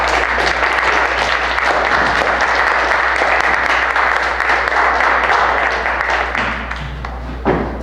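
Sustained applause from a sizeable crowd at a poetry reading, steady and dense, tapering off slightly near the end.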